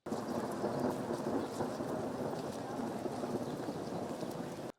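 Steady, heavy rain hisses and patters continuously over a protest march in Kočani, North Macedonia, with a low rumble underneath and faint voices mixed in.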